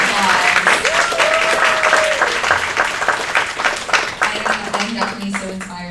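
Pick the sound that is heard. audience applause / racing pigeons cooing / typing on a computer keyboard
audience applause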